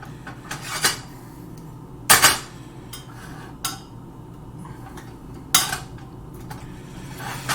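A utensil stirs melted butter in a pan, with several sharp metallic scrapes and clinks spaced irregularly over a low steady background, close and clear, with no talking.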